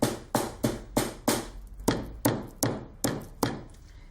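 Dried red peppers are bashed in a pestle and mortar, about ten sharp close knocks at a steady rhythm, roughly three per second, each ringing briefly.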